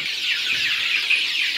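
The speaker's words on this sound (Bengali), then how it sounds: "টাইগার মুরগি" Tiger breed chickens cluck and chatter together on a farm, a continuous dense flock noise of overlapping bird calls, moderately loud and steady with no voices.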